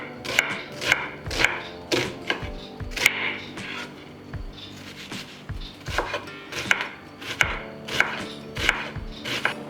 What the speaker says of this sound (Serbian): Dok čekam da voda proključa, iseckat ću 2 glavice luka sitno.